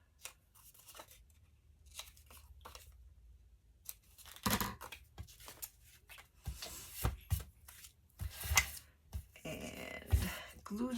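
Scissors trim the corners of fabric in a craft setting, giving several short, crisp snips and cutting crunches spaced irregularly, close up, with occasional soft rustling and handling noise between cuts.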